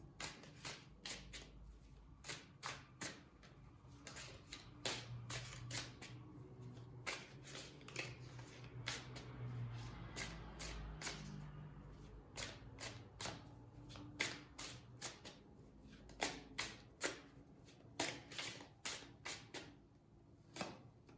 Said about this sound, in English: Let me pick some more tarot cards.